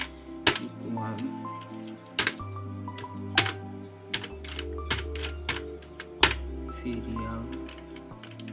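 Typing code on a computer keyboard for an Arduino robot car project, sharp irregular key clicks close by while someone talks steadily underneath.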